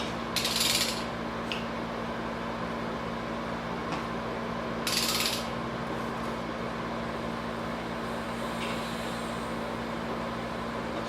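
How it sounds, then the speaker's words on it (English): A ratchet with a 19mm socket turns the crankshaft of a Nissan 350z with faint clicking mechanical sounds, two brighter rasping bursts near the start and middle, and a steady hum underneath. "Got my 19mm socket with the ratchet. We're going to be turning this"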